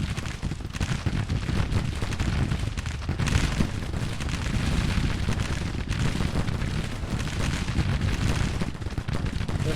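Continuous musket volleys and artillery booms rumble across a Civil War battlefield in Grand Tactician: The Civil War, a dense, steady roar of distant gunfire with no pauses.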